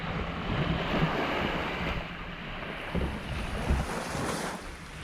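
At high tide, sea waves break continuously on the shingle beach at Point Clear in Essex, a steady rolling surf mixed with gusty wind buffeting the microphone, and no one speaking.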